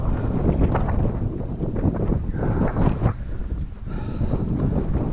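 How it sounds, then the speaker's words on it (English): Strong wind roaring across an open field during a bird hunt, loud continuous gusts pounding the microphone with rises and dips throughout. "Man, it's so windy."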